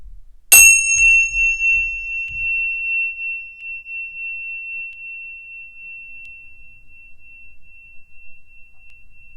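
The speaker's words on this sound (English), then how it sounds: "listening for my bell." A single bell is struck once during a children's yoga session. It gives a bright, clear ding with a long, pure ringing tone that slowly fades over several seconds in a quiet room.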